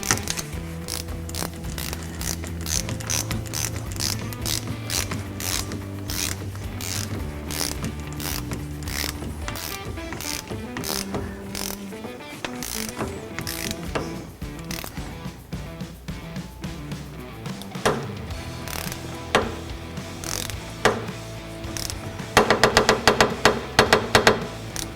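A ratcheting wrench clicks repeatedly while tightening the combined lock nut and bottoming device on a Fox EVOL shock for a Yamaha YFZ450R, close rapid metallic clicks in uneven bursts with mechanical clatter, no talking.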